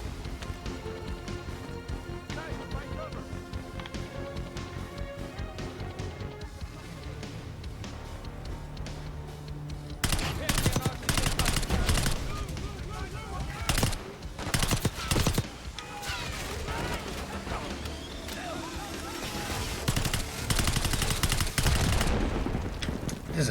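Gunfire in the video game Call of Duty: Black Ops 6, heard over game ambience and music: bursts of rapid automatic shots and sharp cracks, dense and loud in the second half.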